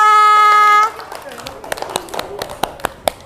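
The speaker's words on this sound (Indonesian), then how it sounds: "beri tepuk tangan untuk kelompok 2." Students at an open class clap for group 2 after a sustained electronic tone cuts off, scattered sharp claps from a small group mixed with children's voices and chatter.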